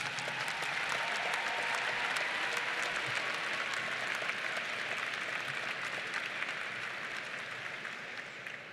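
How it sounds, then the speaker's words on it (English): Audience applause at a Ball State University winter commencement, a large crowd clapping in a steady, sustained wash that fades slightly near the end, with no speech over it. "would you please join me once again in a round of applause for your families and your friends"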